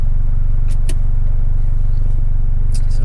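A Mitsubishi Lancer Evolution X MR idles as it creeps forward and turns. The engine gives a loud, steady low rumble from inside the cabin, with a few faint clicks above it.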